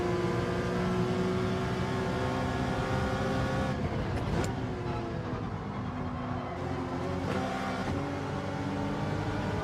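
A Porsche race car engine in Gran Turismo 7, on soft tyres in a Gr.3/Gr.4 championship race, drones at steady high revs with a brief drop and pickup at a gear change, then keeps pulling, loud and close.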